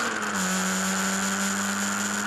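A Historic Formula Ford race car accelerates out of Luffield corner at Silverstone, its engine a loud, steady high-pitched drone held throughout with little change in pitch.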